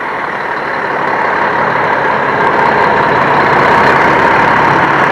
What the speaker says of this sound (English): they're showing us their 1979 Mack truck